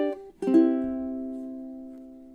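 A ukulele plays the intro measure of a song: a brief strummed chord, a short pause, then a fuller chord left ringing and slowly fading, played alone.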